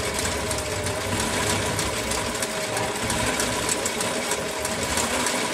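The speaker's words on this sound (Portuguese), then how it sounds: "Eu gosto de testar o ponto overlock." A Bobina Mágica 270 sewing machine more than fifty years old runs steadily through an overlock stitch, a continuous close mechanical whir and rapid clatter with no voices.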